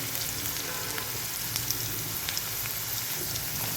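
Chana dal, green chillies and onions fry in oil for a carrot curry, giving a steady, fairly soft sizzle dotted with small crackles and pops.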